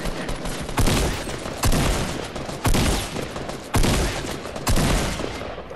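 Gunfire in a Fortnite duo match: five loud, evenly spaced bursts of rapid shots, each a sharp full-band blast that decays before the next.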